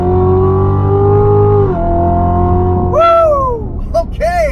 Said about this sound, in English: that supercharger spools up like that